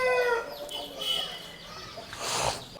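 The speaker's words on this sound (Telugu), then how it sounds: "నా ఈ పుంజు గురించి చెప్పండి." One-year-old rooster weighing about three kilograms, crowing close by in a long stretched call, then following it with short clucks and a louder squawk near the end.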